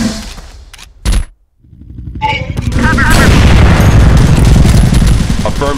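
A grenade goes off in the video game CrossFire: one sharp burst of noise, then a long, loud, sustained rumble of battle sound that keeps going to the end, with a game voice heard briefly near the start.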